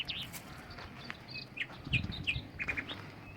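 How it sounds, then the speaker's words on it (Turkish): Several short, high bird chirps and tweets sound at moderate distance in a rose garden in Isparta, Turkey, scattered irregularly over a soft outdoor background. "Kuş sesleri,"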